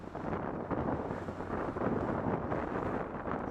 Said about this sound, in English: whatever direction you need to go in, that's where the wind is coming from